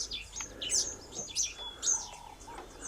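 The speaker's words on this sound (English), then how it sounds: "one's known as the Southern Red Bishop" Southern Red Bishop birds call outdoors in southern Africa with a string of short, high, buzzy chirps and twitters. They sound fairly faint and near, with quiet background ambience and no talking.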